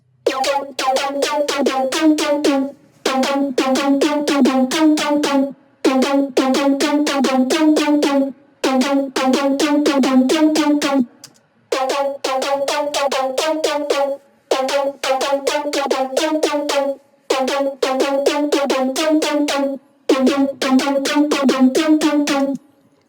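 A synth lead recreating a track's lead plays through an auto filter in repeated bar-long phrases with short gaps between them, a bright buzzy tone with pulsing harmonics, loud and alone.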